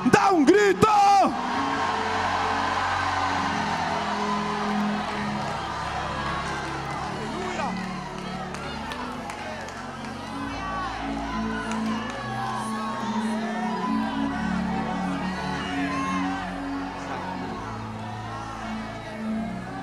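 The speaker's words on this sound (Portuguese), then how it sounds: "Quem hoje vai embora livre para sua casa, dá um grito." Church congregation shouting and cheering during a Portuguese-language sermon, a steady crowd roar with whoops under a loud voice.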